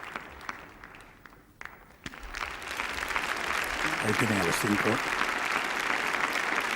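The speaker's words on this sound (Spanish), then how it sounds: "adelantándose al proscenio para recibir el aplauso de los invitados presentes en el Teatro" A theatre audience at an awards ceremony breaks into sustained applause that swells and holds steady, while someone speaks over the start of it.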